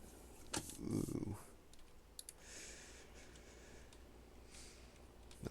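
Quiet clicks of computer keyboard typing, a few scattered soft taps with a brief louder burst early on and low talk in the background.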